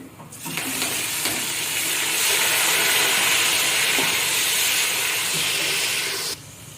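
Ginger garlic paste sizzles and hisses steadily in a hot pan for Sindhi biryani, a loud frying crackle with faint stirring clicks, then cuts off abruptly.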